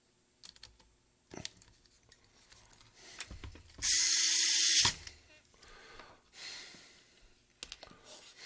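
Screws being fitted back into the dust cover of a 1968 AutoSonic PortaMount 120 8-track/4-track player, heard as quiet metallic clicks and ticks, with a short burst of louder hissing noise midway through.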